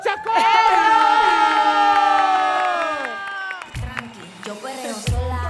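A crowd cheers and shouts loudly over sustained music, then the cheering fades and a few scattered shouts remain.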